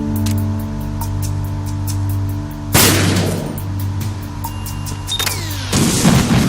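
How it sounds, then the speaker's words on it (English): A sharp, loud gunshot bursts out of a steady mechanical hum in Metal Gear Solid 2, with a second blast following a few seconds later. "when I fire this gunshot he'll probably end up hearing it"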